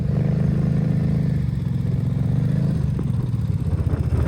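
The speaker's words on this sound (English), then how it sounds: "an exciting race between a Honda 400EX and the challenger is a Kawasaki 700" Two ATV engines, a Honda 400EX and a Kawasaki 700 EFI twin, idle on sand dunes before a race, a loud, steady, low throbbing rumble with a clattering pulse, close by and continuous.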